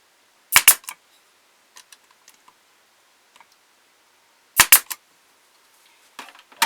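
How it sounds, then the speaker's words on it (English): A staple gun drives staples into freshly glued wood on a carved wooden ventriloquist figure, giving sharp isolated snaps, a pair near the start and another pair later, with faint clicks between. "I glue it, and then I'm going to put a staple in here."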